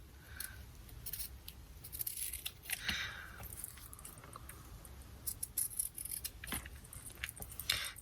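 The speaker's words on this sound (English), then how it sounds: "I'm gonna cut some of the butterflies" Scissors snip paper butterflies in a quiet indoor craft setting, producing repeated soft, crisp cuts at an irregular pace, close but faint, with no talking.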